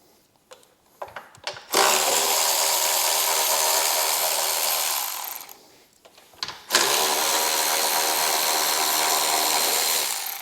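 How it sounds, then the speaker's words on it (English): A power tool whirs in two long sustained bursts while bolts are removed from the base of a Harley-Davidson motorcycle gas tank, with a short pause between runs and no talking. "we're going to remove our bolts and disconnect our fuel line after that"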